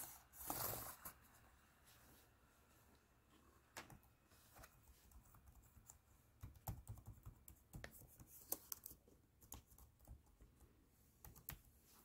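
Keys clatter on a Lenovo ThinkPad T570 laptop keyboard during a repair check, with faint, close, irregular clicks that grow busier and denser toward the end, in a quiet room.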